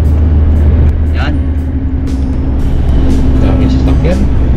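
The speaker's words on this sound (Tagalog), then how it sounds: "Daming sasakyan." Heavy car traffic on a night road in Doha heard from inside a moving vehicle. A loud steady engine and road rumble continues throughout, with passing cars hissing by, and voices murmur faintly beneath it.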